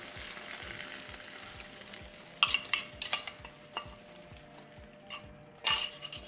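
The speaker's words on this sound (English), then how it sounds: "Now we can add our eggs." Beaten eggs go into a hot pan with sausage and tortilla, raising a soft, steady sizzle punctuated by sharp clinks of a utensil against the pan and a faint, regular ticking underneath.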